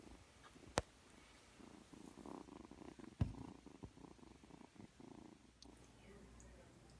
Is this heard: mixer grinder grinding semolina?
no